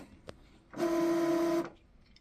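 An Epson ET-7700 ink tank printer whirs into a steady mechanical hum with a tonal drone for under a second after restarting, then stops, with a faint click just before it starts.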